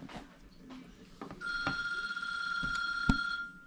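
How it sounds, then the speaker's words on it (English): A phone ringing in a pocket in a home kitchen, a steady electronic ring tone that starts partway through and holds, heard close beside earlier quiet kitchen clatter. "it looks like we got a phone ringing."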